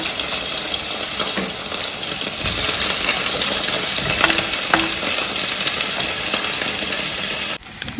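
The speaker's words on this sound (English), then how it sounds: "Guys, I am frying my gizzard in the shallow frying method, so you can see very little oil, coconut oil, but still frying very good." Chicken gizzards shallow frying in a little coconut oil, a loud continuous sizzle with occasional clinks and stirring scrapes, ending abruptly.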